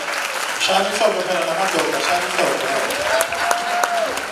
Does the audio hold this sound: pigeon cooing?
no